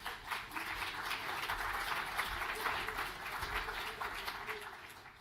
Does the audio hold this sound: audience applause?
yes